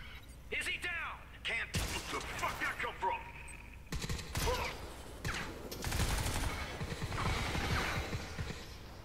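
Gunfire in the video game Crysis 3 breaks out in short sharp bursts and single cracks with impacts and mechanical clatter, under a player's talking.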